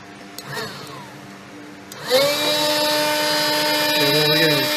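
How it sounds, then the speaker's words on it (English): A forge blower switches on partway through and settles into a loud, steady whirring drone, with a short bit of earlier background noise before it. "Let me go ahead and turn the blower on."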